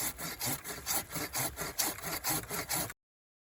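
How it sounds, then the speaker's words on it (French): A small pruning saw cuts through a tree branch in rapid, even back-and-forth strokes, a close rasping rhythm of about a dozen pulls before stopping abruptly. "la coupe qu'on a effectuée à la scie"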